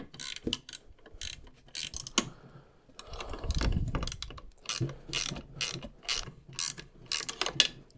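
Ratchet wrench tightening 13 mm flange nuts on the seat rails of a 1997-2001 Jeep Cherokee XJ, quick bursts of close, crisp clicking with short pauses and a duller rubbing stretch midway.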